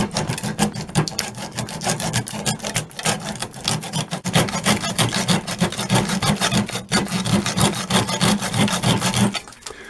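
A hand saw cuts through the copper windings of an electric motor clamped in a vise, close to the steel core, making a steady rhythmic rasping back-and-forth stroke for about ten seconds, close and loud, with no voices.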